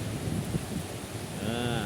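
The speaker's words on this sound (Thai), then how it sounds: "ฝนมาแล้ว รอเป็นเดือนแล้วครับ" Heavy rain falling after a long hot dry spell, a continuous hiss with wind buffeting the microphone, close and fairly loud, no talking.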